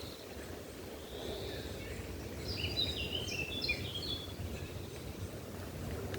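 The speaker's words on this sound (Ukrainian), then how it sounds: "соловей не співає, співає соловіха" A nightingale sings outdoors in a wooded gully, its clear whistled phrases fairly distant and faint over a soft steady background of ambient noise.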